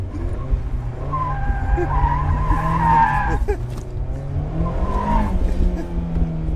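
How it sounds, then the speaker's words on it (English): A 2024 Mazda Miata's engine roars continuously while tires squeal and skid in long sustained screeches, loud and close as the car spins donuts. "I can do donuts"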